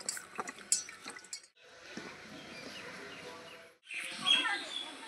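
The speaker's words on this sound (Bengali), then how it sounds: "দেখুন, লেবু জলে একটু ধুয়ে নেব লেবুগুলো।" Three green lemons rinsed in water in a home kitchen, splashing and dripping close by in two bursts separated by brief pauses, with a swishing wash of water throughout.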